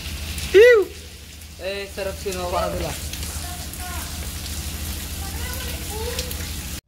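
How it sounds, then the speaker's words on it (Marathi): Heavy rain falls with a constant hiss and patter, while voices call and talk and a brief whistle-like tone rises and falls near the start. "फुल पाऊस पडतोय"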